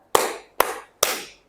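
Three sharp hand claps at an even, brisk pace, loud and close with short decays and otherwise near silence.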